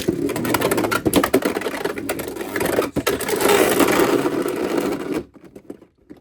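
Beyblade X spinning tops clatter and whir in a plastic stadium, a dense rattling grind of collisions with sharp hits, loud and close, ending abruptly as the tops stop.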